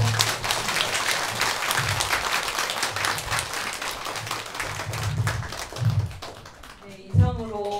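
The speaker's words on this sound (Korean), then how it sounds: "스님께 한 번 더 큰 박수 부탁드립니다" An audience applauds at a Buddhist precepts ceremony held at a temple in Anseong. The clapping is sustained and fairly even, slowly tapering off, and a voice speaks briefly near the end.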